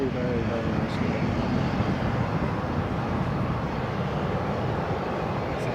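A KLM airliner landing, heard as a continuous broad engine roar with rumbling low end, steady and fairly loud from start to finish.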